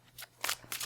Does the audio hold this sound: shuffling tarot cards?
yes